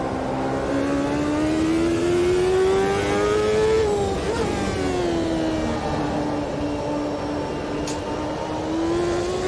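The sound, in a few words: race car engine in Automobilista 2 video game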